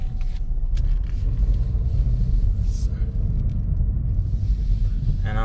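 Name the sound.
Chevrolet Malibu car driving after throttle body cleaning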